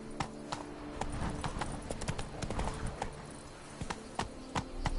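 In The Witcher 3: Blood and Wine, a horse's hooves clip-clop in a steady walking rhythm, close and fairly quiet, over soft ambient background.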